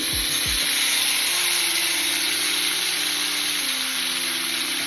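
Half a kilo of chopped tomatoes frying in oil in a kadai, a loud, steady close sizzle that holds without pause for the whole stretch.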